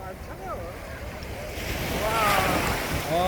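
Sea waves washing onto a Korean beach, a low rushing surge that swells louder midway, with wind buffeting the microphone and a voice and squeals over it.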